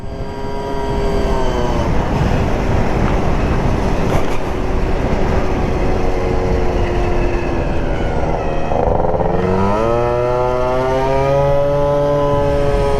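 A Yamaha Super Zuma scooter fitted with a Yasuni R exhaust pipe rides close and loud, the engine droning steadily and then rising and falling in pitch as it revs through the throttle.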